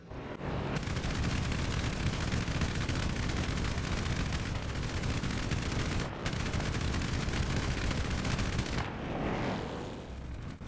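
P-51 Mustang machine guns firing in a long, dense, continuous roar that breaks briefly once and then stops before a fading tail.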